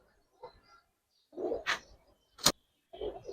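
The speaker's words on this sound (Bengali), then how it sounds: "জলসা চোখের কবুতর" A Jalsa-eyed breed pigeon gives a few soft, low coos in separate short bursts, close by and otherwise quiet, with a sharp click or tap among them.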